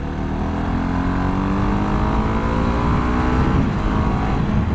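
A Husqvarna Vitpilen 701 motorcycle accelerates from 40 to 80 mph, its engine note climbing steadily through the gears under heavy wind rush.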